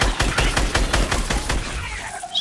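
Rapid automatic gunfire in Fortnite, a steady string of about a dozen sharp shots fired close in under two seconds, then a brief fading tail.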